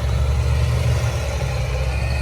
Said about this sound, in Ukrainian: Трактор важкий.